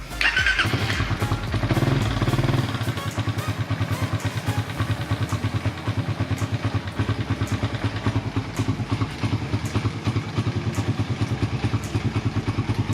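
Raider 150 Fi motorcycle engine starts with a louder burst, then settles into a steady, close idle with a fast, even pulsing rhythm that runs uninterrupted.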